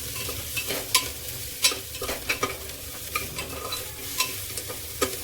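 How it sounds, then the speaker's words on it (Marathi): Golden-brown onions with half a teaspoon of baking soda stirred in a frying pan for hotel-style whole masoor: repeated scraping strokes of a spoon through the pan over a steady close sizzle, with no talking. "त्याच्यातच आपल्याला एक अर्धा चमचा, छोटा चमचा खायचा सोडा टाकायचा आहे आणि हलवून घ्यायचं"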